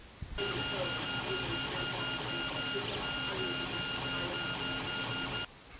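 A 3D printer prints a small test part for a dart barrel. It makes a steady whirring hum with faint stepper tones for about five seconds, starting and stopping abruptly.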